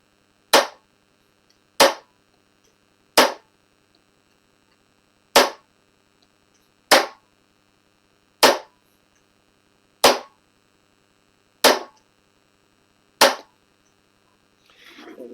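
An inertia bullet puller strikes a towel-covered mounting plate again and again, nine sharp muffled knocks at uneven intervals of roughly one to two seconds, close and isolated against silence.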